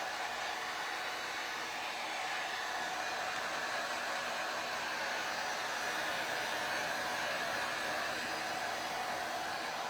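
A hair dryer on its warm setting blows steadily at close range over a burlap harlequin cross, with an even, unbroken whirring hiss and no pauses.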